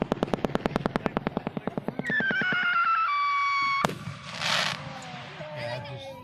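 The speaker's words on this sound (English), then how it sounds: "Oh, you can see some of the fireworks." Fireworks at Hickory Grove Airpark open with a rapid, regular string of sharp pops, then give way to sustained whistling tones and one loud bang followed by scattered crackling.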